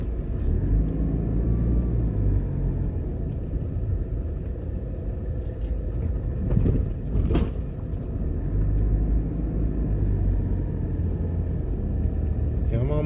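A car rolls along a one-way road on a university campus, a low continuous rumble of engine and tyres with a brief louder swell midway, people talking faintly nearby.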